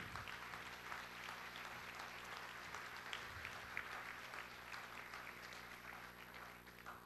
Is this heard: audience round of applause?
yes